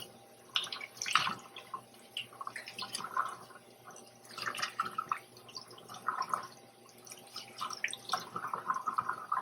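Water from a sink tap, running and dripping softly while a tie-dyed fabric mask is rinsed, a faint irregular splashing with no voices.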